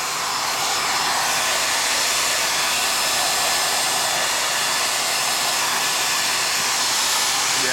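A hair dryer blows steadily and loudly at close range, a constant unbroken roar while drying a clay pinch pot skull rattle.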